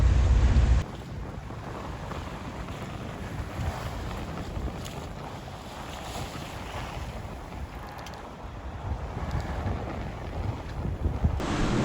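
Steady wind gusting over a sailing boat heading out of Falmouth harbour into a southeasterly breeze, with broadband rushing noise, water wash and microphone buffeting continuing throughout, no voices.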